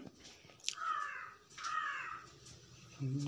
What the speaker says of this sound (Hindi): ये देखो ये ससुरा कौवा फिर आ गया मेरे रिकॉर्ड करते ही